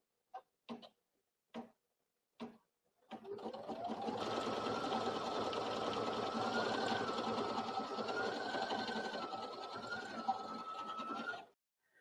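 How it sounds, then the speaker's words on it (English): Brother NQ1700E embroidery machine stitching after a few sharp button beeps: a steady, fairly quiet buzzing whir with a rising then wavering pitch that runs for several seconds before stopping, no talking. "I can simply start embroidering."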